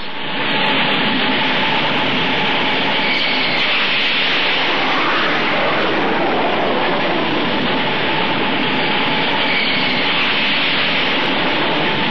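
Jet engines of aircraft aboard a U.S. Navy carrier in the Vietnam era roar loudly and steadily for the whole stretch, a dense unbroken wash of noise.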